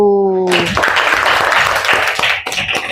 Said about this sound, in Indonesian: silakan beri tepuk tangan kepada kelompok 1